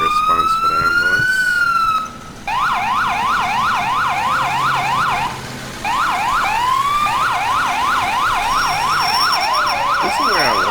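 Ambulance siren in the EmergeNYC emergency-response game, a loud, close electronic wail cycling rapidly up and down in a steady yelp pattern, briefly switching tones and pausing twice before resuming, with a vehicle engine hum underneath.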